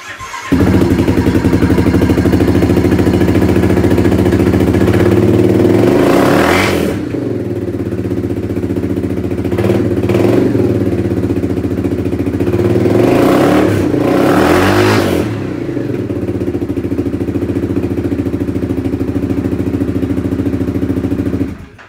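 A Yamaha Grizzly 700 ATV fires up and runs loud and close, with two strong revving surges over a steady idle before it cuts off at the end.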